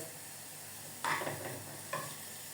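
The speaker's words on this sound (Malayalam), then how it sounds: "ബീൻസ് ഇതുപോലെ വഴറ്റിയെടുക്കണം." Beans and carrots sauté in ghee in a pan, giving a quiet low sizzle broken by two distinct scraping stirs of a spoon.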